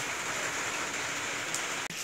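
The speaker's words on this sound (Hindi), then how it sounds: "बारिश में" Steady rain pours onto a shed roof during a monsoon downpour, a dense continuous hiss with no voices, broken by one brief sharp knock near the end.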